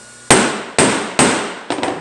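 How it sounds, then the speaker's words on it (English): A smooth-faced hammer knocks a dimple back down around a nail hole, four sharp, close metallic strikes at a steady pace, the last one doubled, each ringing briefly before the next. "take a flat-headed hammer, smooth-faced hammer. You can hit those back in, and you can knock that dimple"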